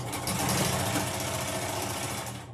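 An embroidery machine tacks down fabric before quilting an in-the-hoop zipper bag, its dense, rapid stitching chattering steadily and close throughout.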